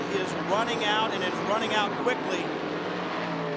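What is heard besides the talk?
race car engine at Homestead, 2005 Rolex series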